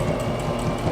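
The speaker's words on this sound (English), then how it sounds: "if you want to lock your stitches at the beginning and the end, you can hold your reverse button down and it will sew" An XR3774 sewing machine stitching in reverse, a short burst of rapid, even mechanical whirring and needle clatter, close and alone.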